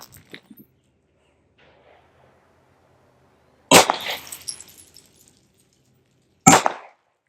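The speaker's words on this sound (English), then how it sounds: "We'll start with 3 shots to the center here." Two loud, sharp shots from a Smith & Wesson M&P 2.0 Compact pistol crack out a few seconds apart at close range, each with a brief echoing tail, after near silence.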